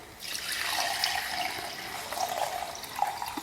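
Tamarind water is poured into a mixer jar in a home kitchen, giving a steady, close liquid splashing and trickling that runs through the short stretch with no talk.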